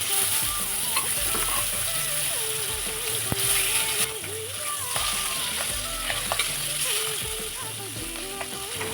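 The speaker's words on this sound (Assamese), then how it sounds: "এতিয়া মই মাছখিনি আপোনাৰ ভাজিছোঁ, ইলুটি সিলুটি কৰি ধুনীয়াকৈ ভাজিছোঁ" Pieces of fish frying in mustard oil in a pan, a steady close sizzle with scraping stirring sounds running through the whole stretch.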